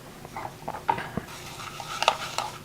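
Panko breadcrumbs are stirred with melted butter and Creole seasoning in a bowl for lobster and bacon macaroni and cheese, giving soft irregular scraping and light clinks of a utensil, close and quiet, with no one talking.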